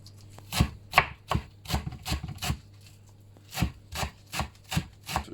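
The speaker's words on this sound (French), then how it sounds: "donc je cisèle finement" A knife finely chops parsley on a board in a series of crisp, close strokes, about a dozen quick cuts with a short pause midway.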